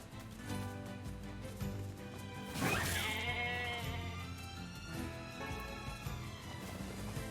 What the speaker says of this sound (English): The sheep respawn every time we enter.